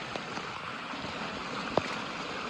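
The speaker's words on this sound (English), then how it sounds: "Here we have this other waterfall, and there's the Tree Root Rapids" Water in a drainage stream flows over a small waterfall and root-strewn rapids, a soft constant rushing wash with a few faint splashes, heard alone.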